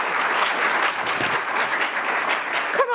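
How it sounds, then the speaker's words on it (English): An audience at a school board meeting breaks into loud, sustained applause and cheering, with dense clapping that holds steady throughout. "We almost made it through without cheering"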